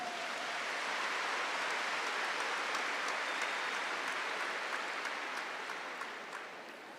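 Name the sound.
congregation applauding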